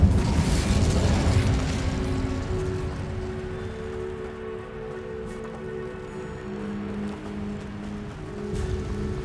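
An Incendio fire spell cast in Hogwarts Legacy opens with a loud bursting whoosh, then fades into a crackling, rumbling flame and mechanical hum that swells again briefly at the end.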